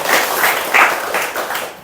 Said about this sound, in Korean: 모두를 위해서 격려의 박수 한번 크게 부탁드리겠습니다.